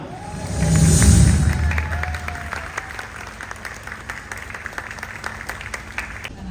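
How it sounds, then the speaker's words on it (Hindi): Loud applause from an audience swells quickly, peaks, then thins into scattered clapping that continues steadily for several seconds. "भरपूर तालियां।"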